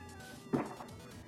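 A cat lets out a single short meow, fairly close and moderately loud, over a steady low background hum.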